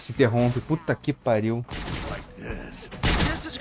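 Someone talks excitedly as loud video-game gunfire breaks in, with a heavy 12-gauge shotgun blast near the end.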